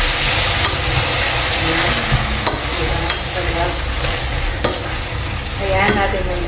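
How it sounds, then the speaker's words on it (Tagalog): Chicken and tomatoes sautéing in a pan: constant loud sizzling with repeated scraping strokes from a utensil stirring the food, close up, with a brief spoken word over it. "Tapos, gisa-gisa natin siya."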